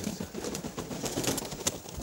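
A French Mondain pigeon coos softly amid steady background noise, with low repeated murmuring calls and a faint flutter.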